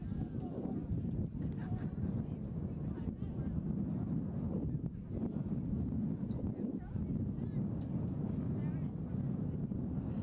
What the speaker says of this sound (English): It's quite blustery.